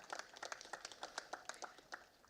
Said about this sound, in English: A huge round of applause for Dr. Sesha Iyer, our principal back then,